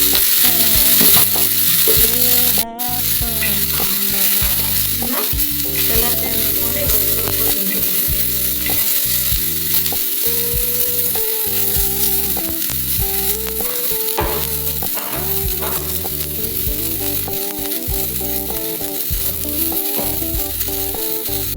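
Curry leaves, chillies and garlic fry in hot oil for a spicy tomato-chilli dish, giving a loud, close, crackling sizzle with rhythmic stirring clatter throughout. A brief dropout comes early on, and no one talks.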